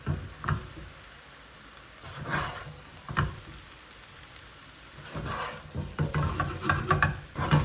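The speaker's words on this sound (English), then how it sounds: "And now we'll add the potatoes. Now a good mix." A ladle stirs potatoes into a spiced pan with cumin for masala aloo. A soft sizzle runs under intermittent scraping strokes, and the stirring becomes busier and louder toward the end.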